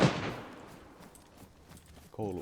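A G36 rifle in DayZ cracks once loudly at the start, its echo decaying over about two seconds, then a voice begins speaking at the end.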